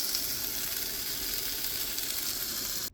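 Taco filling sizzling in a pan on a two-burner camp stove, a steady close hiss and crackle that runs unbroken before cutting off abruptly at the end.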